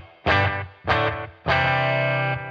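Electric guitar run through a Boss DM-2W Waza Craft delay pedal set to a single repeat: two short distorted stabs followed by a longer sustained chord, loud and close, with no talking.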